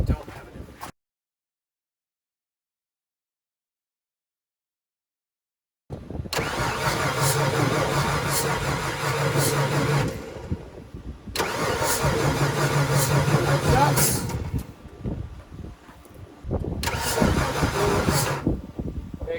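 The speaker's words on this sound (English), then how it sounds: "Okay, crank again." A diesel truck engine cranking during repair work on its fuel injectors, three long starter-motor cranking runs of several seconds each that never catch, separated by pauses, following a few seconds of silence.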